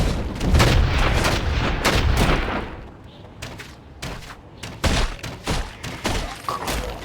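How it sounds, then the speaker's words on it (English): Gunfire striking a troll in the game Dark Alliance: a dense run of heavy shots and booms at first, then spaced, punchy blasts with impacts, loud and close. "I can just shoot him in the ass."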